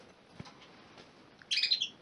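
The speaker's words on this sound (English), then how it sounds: "I love this bird to pieces." A pet bird gives a short burst of bright, high chirps near the end after a soft click, faint and close in a quiet indoor room, with no talking.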